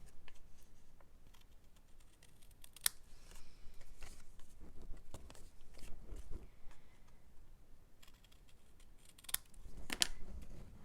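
Scissors trimming excess paper from a scalloped card layer, heard as soft, irregular snips and crisp cuts close by with light handling rustle, no talking.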